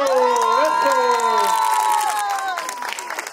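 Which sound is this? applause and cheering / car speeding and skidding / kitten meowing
applause and cheering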